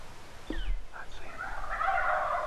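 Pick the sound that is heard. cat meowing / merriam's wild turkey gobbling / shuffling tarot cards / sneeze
merriam's wild turkey gobbling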